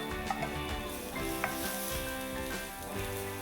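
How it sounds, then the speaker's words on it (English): Finely chopped onions sizzle steadily in a hot pan with masala, a close, continuous frying hiss broken by a few soft stirring scrapes. "Then we'll go in with our onions."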